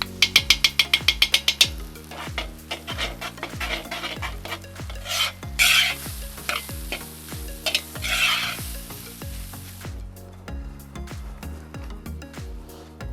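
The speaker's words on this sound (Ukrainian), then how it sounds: "Зараз я додаю томатну пасту, трішки здвинув м'ясо, викладаю на край томатну пасту, обсмажу її." Beef, onion and tomato paste frying in a pan, with a steady sizzle under repeated scraping and stirring strokes and clinks of the utensil against the pan, close and fairly loud, no talking.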